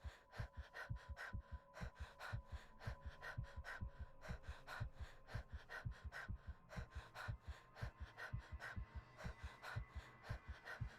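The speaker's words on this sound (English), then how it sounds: "Y'all can listen to breathing while I do this." Heavy, quick breathing close to the microphone, in steady repeated gasps and pants for several seconds, quiet and rhythmic with no talk.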